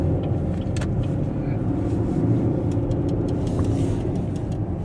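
A 700+ whp Infiniti Q60 held at launch RPM, its engine a loud, steady, deep rumble with a slight rise in revs, close by and continuous throughout with faint background voices.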